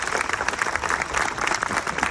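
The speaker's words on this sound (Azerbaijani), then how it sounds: "Mən istəyirəm bütün əziyyəti olanlara alqışlayaq zəhmət olmasa." An audience applauds the cast and crew of a film at a screening, with dense steady clapping from a crowd close by over the whole short stretch.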